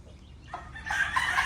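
A short burst of hen and rooster calls from a backyard flock of bloodline chickens, rising loud and close in the last second over faint low noise.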